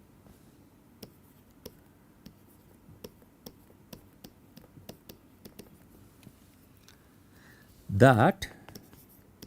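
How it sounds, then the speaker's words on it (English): A lecturer writes an equation on a board, giving a steady series of faint, sharp chalk taps and strokes spaced about half a second apart. A brief spoken word and a louder burst of sound come near the end. "I'll write down the quantity and then we'll see what it is"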